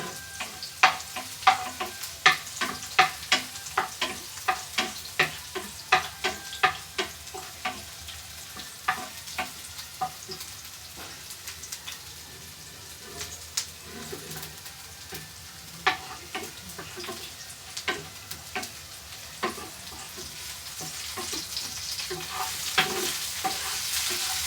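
Garlic frying in a pan for spicy chili pasta, a steady sizzle broken by a long run of sharp, regular scraping and tapping strokes from stirring, fairly close and alone with no talk.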